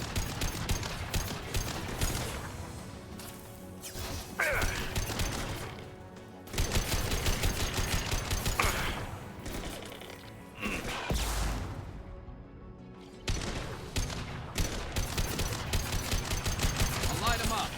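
Rapid bursts of weapon fire from a shotgun-style gun in the Mass Effect Legendary Edition game, repeated volleys close and loud with short pauses between, under a steady music and effects bed.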